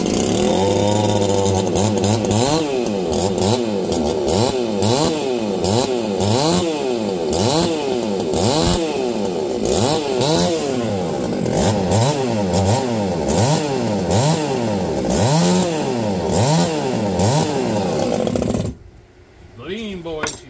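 A small engine fires up for the first time after a 50/55 carburetor build and runs loud and close with a rapidly wavering, surging revs pattern, then abruptly drops off near the end.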